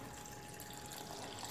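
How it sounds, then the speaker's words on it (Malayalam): Water pours steadily into a mixer jar holding wheat flour, rice and coconut for dosa batter, a faint, even trickling splash with no voices. "ഇതിലേക്ക് നമുക്ക് വെള്ളം ഒഴിച്ചു കൊടുക്കാം"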